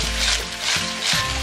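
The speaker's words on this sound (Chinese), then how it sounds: "接着我们就开入大火下入螺丝，下锅了之后简单的翻炒几下，然后淋入半勺的白酒爆出香味" River snails stir-fried in a hot wok over high heat: a loud, close hiss of sizzling, broken by a few scraping, clattering tosses of the shells against the metal.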